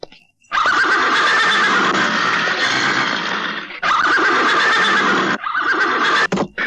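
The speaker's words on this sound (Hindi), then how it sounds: "आपके घोड़े को क्या हो गया आज?" A horse neighs loudly and close by in two long whinnies, followed by a shorter third call, with no talk over it.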